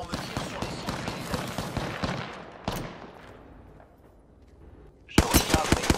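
Automatic gunfire from the video game Apex Legends plays in fast, loud bursts, then fades to a quiet lull before another sharp rapid volley breaks out.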